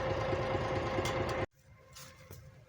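A tractor engine chugs at a steady, fairly loud idle, then cuts off abruptly, leaving faint outdoor background sound with a few soft knocks.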